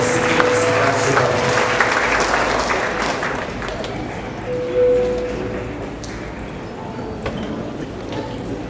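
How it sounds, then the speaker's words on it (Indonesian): Audience applause at a Christmas celebration held by a city's Christian community, a steady wash of clapping from a crowd in a hall that gradually thins out, with a voice speaking over it. "Dan sekali lagi kita sambut dengan tepuk tangan kita yang meriah."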